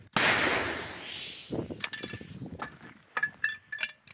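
A single sharp, loud gunshot bursts out and echoes away at a frontline trench position in the war in Ukraine, followed by scattered metallic clinks and rattling.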